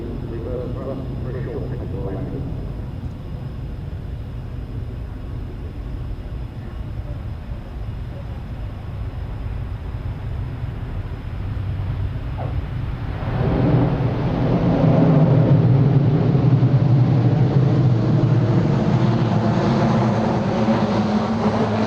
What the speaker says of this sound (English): dropping out of the skies in a very impressive manoeuvre, is the Lockheed Hercules C-130J, performing the tactical demonstration